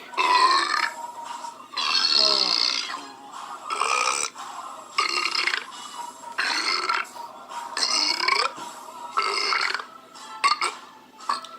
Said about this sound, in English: Rubik's Cube Club is canceled because of a burping man over there.